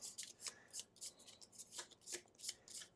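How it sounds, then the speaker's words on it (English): Gloomhaven board game cards being shuffled by hand, a quiet series of quick riffling bursts repeating in a steady rhythm, close and faint with no talking. "Let's go ahead and shuffle this guard deck."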